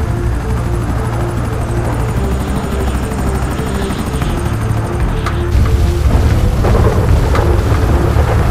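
A helicopter flies in the GTA 5 video game, its rotor thudding in a loud, steady rumble that swells louder and rougher partway through.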